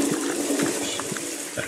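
Toilet water in a video game, a steady hissing, trickling flow of water running continuously, moderately faint, with no one talking over it.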